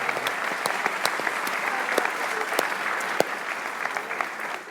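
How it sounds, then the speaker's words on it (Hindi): A small group applauds Pakistan after its loss to England, with brisk, dense clapping and sharp individual claps standing out, steady and close throughout. "तालियां बजाइए पाकिस्तान की।"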